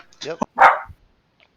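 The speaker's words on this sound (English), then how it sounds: "That's my dog." A pet dog gives one sharp, close bark right after a brief spoken word, then falls quiet.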